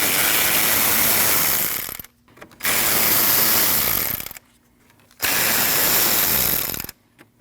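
Close, loud ratchet spinning out 10mm bolts holding the radiator fan to the radiator on a 2003-2008 Subaru Forester 2.5L, in three long bursts of fast clicking with brief quiet gaps between them.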